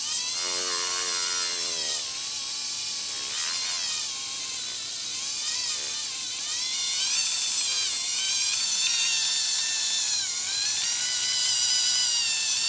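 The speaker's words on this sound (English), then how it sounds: "just turn the Dremel on the lowest setting you got." A Dremel rotary tool whirs on its lowest speed while a wooden ring is worked with liquid super glue, giving a continuous high, wavering whine that rises and dips in pitch, close and fairly loud, with no talking.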